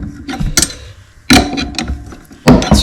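A wrench tightens the pedal drive bolts on an Old Town Bigwater 132 PDL kayak, giving three short, close ratcheting bursts separated by pauses.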